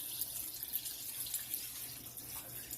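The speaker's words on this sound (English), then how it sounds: "I'm going to add some water into the pot now that it's all braised up really good. I'm going to add 2 cups of water." Water pours steadily into a cooking pot of braised chicken while making chicken and yellow rice, a continuous soft splashing rush throughout with no talking.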